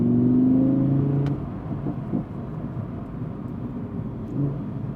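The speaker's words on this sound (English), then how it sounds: "It's got that little burble when you back off the throttle too." A 2017 Audi R8 V10 Plus with 610 horsepower lifts off the throttle, a loud smooth engine note fading into a low, uneven burbling rumble from the exhaust.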